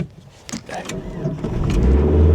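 A 1998 Ford Explorer V8 starts up after a few brief clicks and whirs, its low engine rumble building steadily and settling into a loud, close idle.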